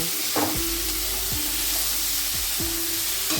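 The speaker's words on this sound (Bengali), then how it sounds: "একটু হলুদ লবণ হলুদটাকে আলুর সঙ্গে মিশিয়ে নেব" Potatoes seasoned with turmeric and salt sizzle and scrape in a hot pan, with a steady frying hiss and several distinct stirring strokes at close range, no talking.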